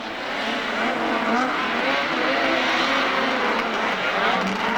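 Racing snowmobile sleds roar around the Rock Maple circuit at Haystack in a 1996 race, a loud continuous engine drone with shifting pitch as machines pass, under a commentator's voice.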